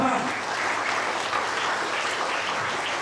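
A church congregation at a worship service claps together in a steady, dense burst of applause that holds at an even level, with faint voices mixed in.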